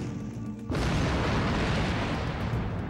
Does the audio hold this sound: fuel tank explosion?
yes